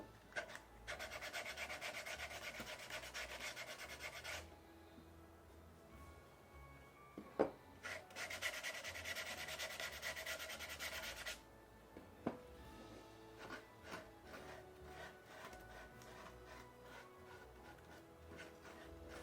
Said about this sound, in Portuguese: Já lixa essa bordinha também.